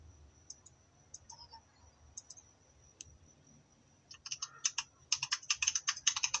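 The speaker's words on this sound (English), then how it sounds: "Typing, naririnig ko yung typing." Computer keyboard typing during a Roblox voice chat, faint scattered clicks at first, then a denser run of quick keystrokes rising in loudness toward the end, with no talking.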